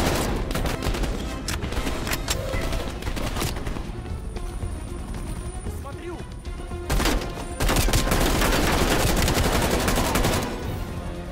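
Turret gunfire in Call of Duty Black Ops Cold War: sustained rapid automatic bursts rattle loudly and close, nearly continuous for over eleven seconds with a brief lull midway, under a dense battle mix.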